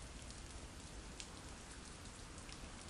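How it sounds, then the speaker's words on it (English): Steady rain falls on a surface at a cemetery grave, a faint, even patter of drops. "It's still raining."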